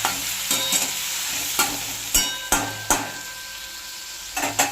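Bitter gourd pieces with a split green chilli and tomato paste are stirred as they fry in a pan. A constant sizzle is cut by repeated sharp scrapes and knocks of the spoon against the pan, close by, with no talking.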